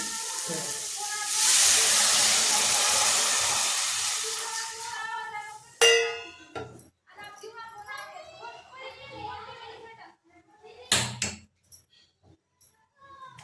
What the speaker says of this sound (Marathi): आता आपण यात पाणी टाकून